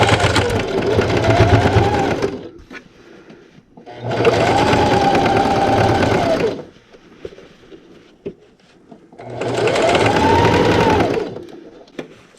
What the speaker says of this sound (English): So I'm just going to move my needle over to the right and back stitch.